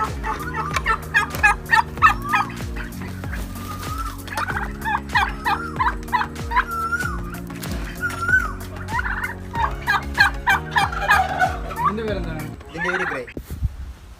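Turkeys gobble repeatedly in loud rattling bursts on a farm, close by, the calls overlapping in a busy chorus from start to finish.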